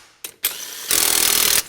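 A cordless impact driver fastens nuts during a Toyota Tacoma track installation, with two short clicks and then a loud, close, rattling hammering burst lasting under a second.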